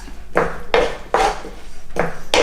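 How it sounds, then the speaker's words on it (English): A spoon stirs a mashed vegan Christmas starter mixture in a bowl, giving four scraping, clattering strokes in a steady rhythm, close and fairly loud with no talk over it. "I'm just going to give that a stir."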